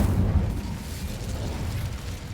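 Incendio fire spell cast in Hogwarts Legacy, a deep rumbling whoosh of flame bursting out and then fading into a low roar over about two seconds.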